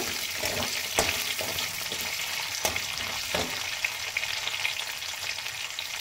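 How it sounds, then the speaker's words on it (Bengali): Onions sizzle loudly and steadily in hot oil for lemon chicken, with a few soft knocks of stirring breaking through the continuous crackle. "এবার দিয়ে দিলাম এতে পেঁয়াজ, এই তেলেই দেব।"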